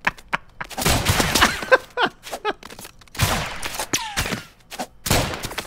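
Gunshots in the game Rounds, scattered sharp shots and short bursts separated by brief gaps, with cartoonish sound effects between them.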